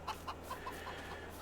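Chickens in Farming Simulator 22, a handful of soft, faint clucks spaced out over a low steady background hum.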